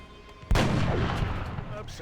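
A single loud, booming gunshot fires in the X-Com video game, followed by a long, rumbling decay.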